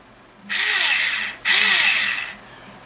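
A small Tamiya handy drill whirs in two steady high-pitched runs, each about a second long, separated by a brief stop, close up with no talking.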